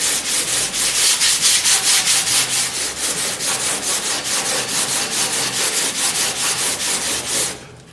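Fine sandpaper rubbed by hand over body filler on the shell of a classic Alfa Romeo, making steady, evenly paced rasping strokes, close and loud, with no talk.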